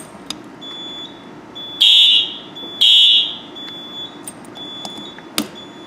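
A fire alarm system sounding during a test gives two loud, shrill electronic beeps, each lasting about a second, with a faint steady tone underneath and a short click near the end.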